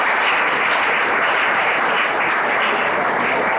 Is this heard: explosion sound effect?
no